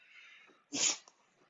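A single loud sneeze bursts out abruptly, close to the microphone, after a moment of quiet breathing, followed by a faint trailing sniff.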